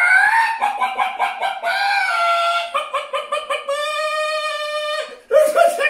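A person at a school assembly imitating a chicken, with bursts of rhythmic voiced clucks and a long crow-like call, loud and close, ending in a final flurry.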